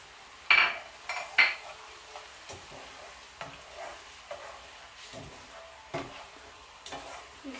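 Mussels with buttered garlic stirred in a pan, a spoon scraping and clinking against the metal over a faint sizzle, with two sharp clanks near the start and softer taps after.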